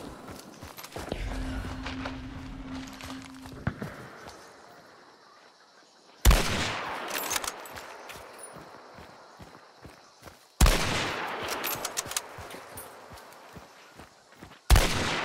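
Gunfire in a video game: a few loud, sharp shots or bursts at intervals, each decaying with a long echoing tail over quieter in-game sounds.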